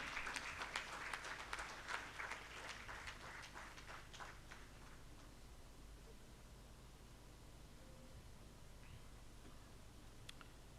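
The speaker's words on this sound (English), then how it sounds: "A bigger round of applause for our chief guest of the session, Dr. T.G. Sitharam" Scattered applause from an audience at a conference inaugural ceremony, strongest at first then thinning out into quiet room noise.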